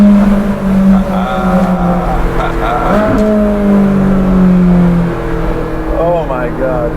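A Ferrari 458 Speciale Aperta engine revving under a bridge, its loud tonal exhaust note rising and holding, then falling, with echo from the bridge and faint talk in the background.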